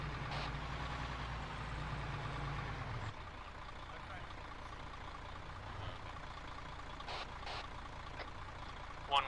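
A fuel truck idles in the military game ARMA III, a low steady engine rumble that drops in level partway through and continues faintly, with brief clicks and radio-style talk over it.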